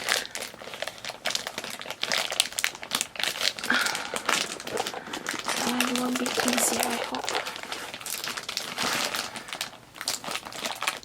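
A zip-lock plastic bag around a MATEIN hanging travel toiletry bag crinkles and rustles continuously while being opened, close up, under steady talking.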